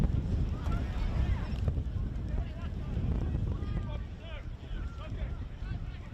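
Strong wind buffets the microphone at an outdoor football stadium during a MetroStars v Sydney United Australian Championship match, a constant low rumble with faint voices beneath.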